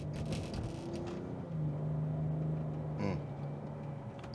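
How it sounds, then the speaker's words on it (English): A 2005 Bentley Continental GT accelerates from inside the cabin, its engine a low, rising hum with a gear change partway through, moderately loud and without talk. "I'm barely hitting the gas pedal and this thing just, wow, takes off"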